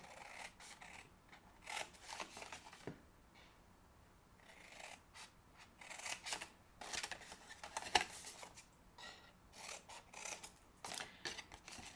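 Scissors snip and rasp through paper while corners of a paper holiday tote are trimmed, giving faint, close, irregular cutting strokes with small handling rubs between them.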